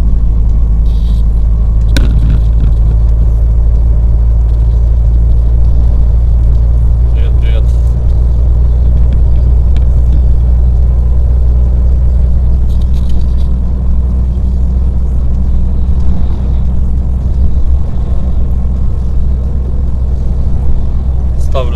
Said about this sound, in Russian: машина должна на передаче выкатиться